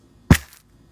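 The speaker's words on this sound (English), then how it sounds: "the rice is what's doing the whole snare-ish kind of sound" A single sharp, snappy hit on a homemade snare drum made of coasters and a box filled with basmati rice, with a short rattly buzz trailing after the crack, close and alone.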